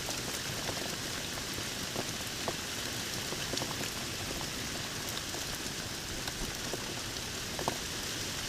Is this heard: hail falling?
yes